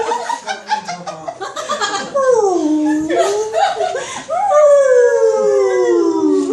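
People at a bridal shower imitate whale calls with long rising and falling vocal moans and howls, mixed with laughter and chatter around them.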